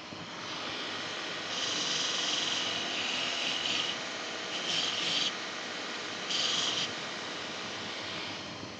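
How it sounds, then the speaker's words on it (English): Sandpaper rubbed around a drilled hole in metal to deburr it while building a bi-pod hammock stand: a steady gritty hiss with several louder scrubbing bursts, close up and without speech. "I try to sand a little bit all the way around. That way I know I've got it deburred well."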